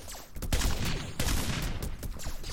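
Gunfire in a Minecraft minigame, a rapid burst of shots taking out a guard, with two loud volleys close together followed by scattered cracks over game noise.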